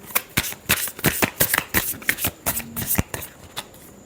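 A deck of tarot cards being shuffled by hand, a brisk run of crisp riffling flutters and slaps in quick succession, close and clear with no talking.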